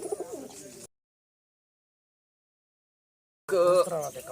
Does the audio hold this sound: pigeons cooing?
yes